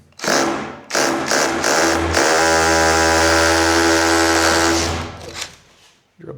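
An electric drill runs in a garage, its bit heating up as it bores: a steady, loud motor whine with harmonic tones, preceded by a few short bursts and trailing off near the end.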